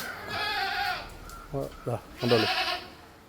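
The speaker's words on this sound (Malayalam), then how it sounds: "അടിപൊളി മലബാരി ആട്" Several short bleats from a Malabari goat, close and loud, in quick succession after a stretch of someone talking.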